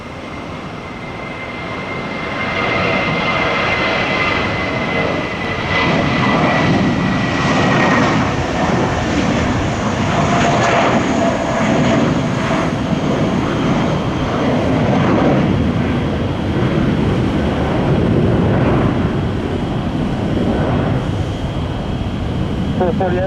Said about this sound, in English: Sounds like another Southwest is going to land 1 right.